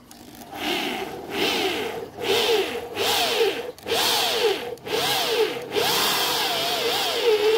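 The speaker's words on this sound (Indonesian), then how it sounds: "Oke, dua sisi sudah terbor." An electric drill whines in repeated bursts, revving up and easing off as it bores holes for a DIY heat-resistant handle, close and loud with short pauses between runs.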